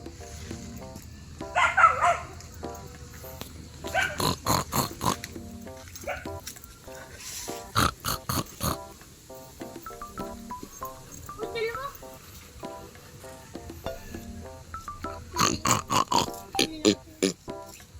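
Wild pigs grunting outdoors in a rural setting: repeated short bursts of snorting grunts come in clusters across the stretch, mixed with people talking and moving nearby.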